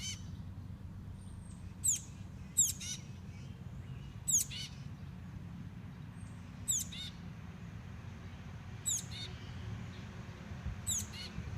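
Several short, high bird chirps from a baby bird, spaced a second or two apart over a low background rumble, fairly close and with no talking.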